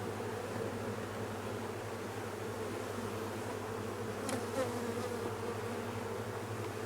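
Honeybees buzzing around an open hive full of comb and brood, a steady dense drone close by that fills the whole stretch without pause, with no talk.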